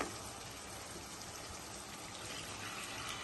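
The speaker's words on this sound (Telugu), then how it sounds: "ఇప్పుడు చింతపండు పులుసు పోసుకోవాలి" Tamarind juice is poured into a simmering crab curry, a faint, steady liquid trickle and splash heard alone.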